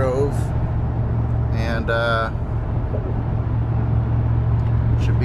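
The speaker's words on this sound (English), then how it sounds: "should be there pretty shortly on the 22 freeway here" A car cruises on the 22 freeway in California, giving a constant loud road rumble and wind roar with tire noise, and someone speaks briefly over it.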